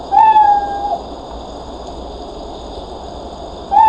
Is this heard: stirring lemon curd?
no